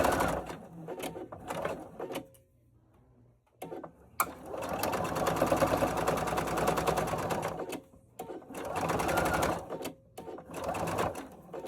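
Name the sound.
sewing machine stitching a hanging towel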